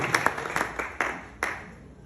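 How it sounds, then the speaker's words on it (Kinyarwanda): A church congregation claps at a children's gathering in Kampala, with several short bursts of applause coming one after another, moderately loud with no voices. "Tukomere Imana amashyi."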